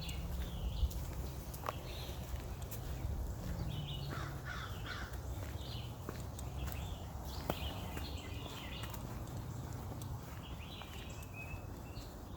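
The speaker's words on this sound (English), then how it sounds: "The crow sees me." A crow caws repeatedly outdoors along a trail, a series of hoarse calls at middle distance over a low, steady wind and ambient rumble, with no voices.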